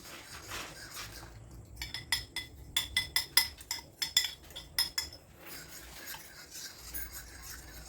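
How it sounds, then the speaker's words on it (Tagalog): Ube maja blanca mixture is stirred in a pot, making quiet scraping with a mid-stretch run of sharper utensil clinks against the pan, fairly faint and without speech. "Ihalo-halo lang natin mga idol para hindi siya magbuo-buo mga lods"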